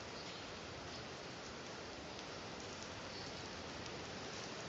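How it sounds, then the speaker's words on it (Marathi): Heavy rain pours steadily outside a residential building, a dense, continuous hiss that stays loud and even throughout with no voices over it. "किती पाऊस पडते बाहेर."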